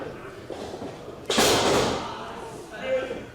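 A wrestler slammed hard onto the ring mat during a BCW Grand Dragon Title intergender match, one loud broadband thud ringing out amid arena crowd noise and a commentator's voice.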